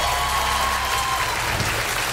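Studio audience on a family quiz show applauds in a dense, steady round of clapping that continues throughout.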